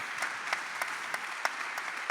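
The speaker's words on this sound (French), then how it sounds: "que vous pouvez applaudir bien sûr." A real estate conference audience applauds, a dense even patter of many hands at moderate distance with a few sharper single claps popping out above the wash.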